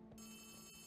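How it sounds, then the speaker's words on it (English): A telephone ringing inside the Poppy Playtime Chapter 3 horror video game, a steady electronic bell tone heard faintly and alone over a brief stretch. "the phone is ringing."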